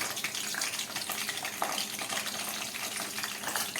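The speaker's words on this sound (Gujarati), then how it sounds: "બાકીના મરચાં પણ આપણે તળી લઈએ" Green chillies fry in oil over low heat, a steady close crackling sizzle with stirring and scraping mixed in, running continuously without any voices.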